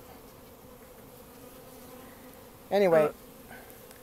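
Honeybees buzz faintly and steadily throughout a hive inspection, with one louder, nearer bee passing briefly near the end; a voice speaks briefly.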